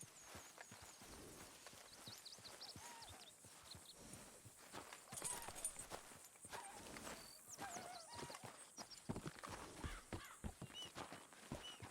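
A horse walks with steady clip-clop hoofbeats in the game Red Dead Redemption 2, the hooves close and rhythmic with a few whinnies and creaks layered among them, fairly quiet overall.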